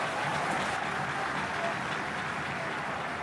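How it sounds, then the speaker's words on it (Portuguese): Vasco football fans applauding in a stadium during a Brazilian league match against Vitória, a dense, even wash of distant crowd clapping that holds steady for the whole stretch. "Torcedor vascaíno aqui está aplaudindo porque o time conseguiu ganhar o lateral"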